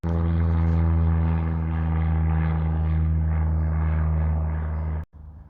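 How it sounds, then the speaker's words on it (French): A propeller airplane flies overhead, a loud, steady droning engine with strong low harmonic tones, sustained for about five seconds before cutting off abruptly; no talk over it. "T'imagines s'il y a Greta Thunberg dans cet avion"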